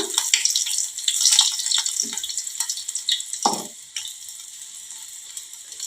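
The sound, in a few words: green chillies frying in oil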